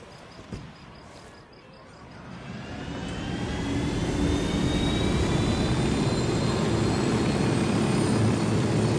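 A helicopter in the video game Ghost Recon Wildlands spins up after a brief click, its turbine whine and rotor roar swelling over a few seconds into a loud, steady drone that holds to the end.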